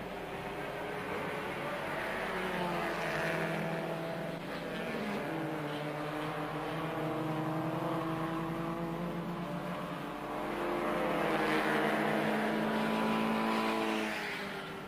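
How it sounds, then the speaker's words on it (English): Group N race cars lap the track in the dark during a 9-hour endurance race, their engines droning loudly and continuously with rising and falling pitch as they pass, with no voices heard. "terwyl die ander motors nog steeds so vinnig as moontlik in die donkerte om die baan probeer sirkuleer"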